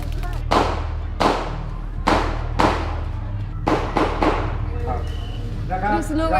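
Firecrackers burst during a Bangkok street protest, six or seven sharp loud cracks spaced irregularly about a second apart, each with a short echoing decay, over a low rumbling background and a faint voice near the end.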